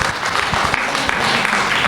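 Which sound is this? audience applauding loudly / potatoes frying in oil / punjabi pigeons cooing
audience applauding loudly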